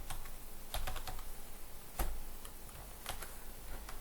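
Keyboard typing while writing C# threading code: a steady run of light key clicks with a few sharper, louder strikes standing out. No one speaks over it.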